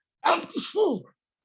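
A single sharp human sneeze, close and alone, with a quick inhale and burst, followed by silence.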